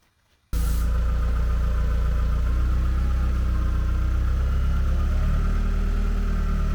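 A forklift engine runs steadily at a loud, close idle after a quiet start, a continuous low mechanical drone in a workshop where a two-foot gauge steam locomotive frame is being worked on.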